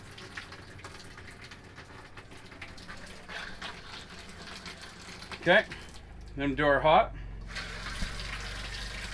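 Water runs steadily from a faucet being opened while a 2021 Rockwood Mini Lite 2509S RV is winterized with antifreeze, a faint continuous flow with brief louder bursts of sputtering, while someone talks over it.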